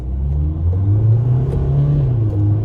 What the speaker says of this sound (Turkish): Dip gaz yaptım.